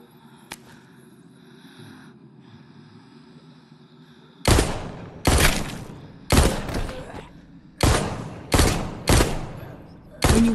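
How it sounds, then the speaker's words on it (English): Pistol fire aimed at walkers in The Walking Dead Onslaught, a VR zombie game: seven loud, sharp shots at uneven intervals, each with a short decaying tail, following a quiet stretch of low ambient hum. "Steady the pistol and take a shot at those walkers."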